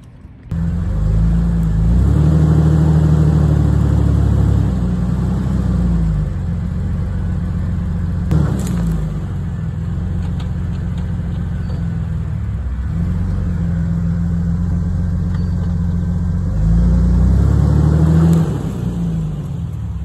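A Jeep Wrangler TJ engine strains while pulling down trees, a loud close rumble that surges into revving, holds steady under load, dips, then revs hard again near the end.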